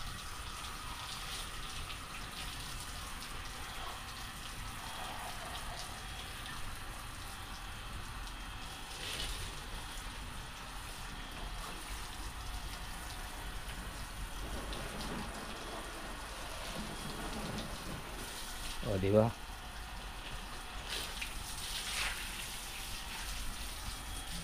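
Steady rushing water runs continuously from a broken faucet, with a brief clatter near the end and a few quiet words spoken in Filipino.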